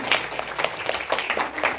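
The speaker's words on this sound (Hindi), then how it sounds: "तो एक बार अपने लिए ताली तो हो जाए" An audience at a Brahma Kumaris Women's Day programme claps in a brief, fairly faint burst of scattered applause.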